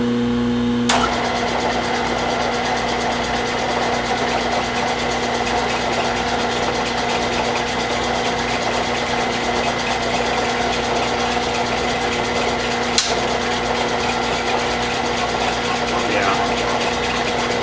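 A Bridgeport milling machine boring a gear at a slow 80 RPM gives a steady, continuous mechanical drone with a constant low hum, and one sharp click near the start and another near the end.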